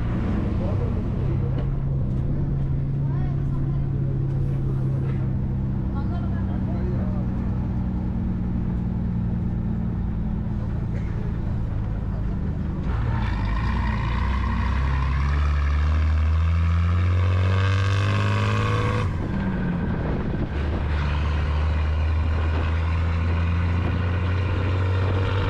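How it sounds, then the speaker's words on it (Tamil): A tour bus at Ramoji Film City in Hyderabad, heard from inside as a steady, loud engine drone with shifting gear tones and road rumble throughout, while people talk over it. "இந்த பஸ் வந்து ஒரு இடத்த கொண்டு விட்டுருவாங்களாம்."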